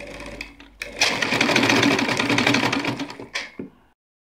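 A sewing machine stitches through net sleeve fabric in a close, steady whir lasting about three seconds, with brief start-stop bursts at the beginning and end before silence.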